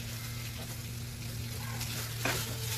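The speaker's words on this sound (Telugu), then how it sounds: "మటన్ కీమా ఆయిల్లో బాగా కలిసేలాగా చూపించే విధంగా బాగా కలుపుకోవాలి" Boiled mutton keema stirred into hot oil in a pan sizzles loudly and continuously up close, with a brief scrape of the spoon partway through and no voices.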